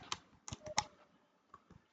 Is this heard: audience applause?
no